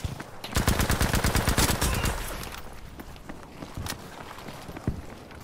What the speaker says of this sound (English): Oh, I'm getting shot from behind.